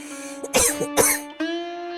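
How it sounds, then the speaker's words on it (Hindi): An old woman in a cartoon story coughs deep in a forest, giving two sharp, rasping coughs close up over a steady held musical tone. "अचानक रघु को एक खांसी की आवाज सुनाई दी।"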